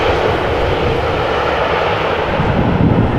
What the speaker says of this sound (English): EasyJet A319 arriving from London Gatwick